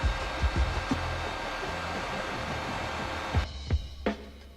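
Modena Gevole VC 1505 stick vacuum cleaner, rated at 130 watts, running with a steady whirring hum, a few soft knocks from handling, and a shift in tone near the end.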